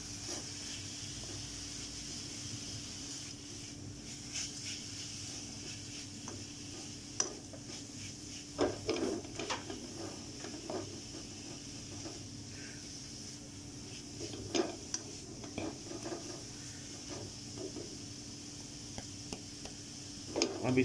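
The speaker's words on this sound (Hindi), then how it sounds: "अब इसको थोड़ा सा और चलाएंगे," Spiced potato filling for samosas, seasoned with red chilli powder, is stirred with a spoon in a pan, giving soft scraping and occasional clinks of the spoon against metal at close range, with no talk.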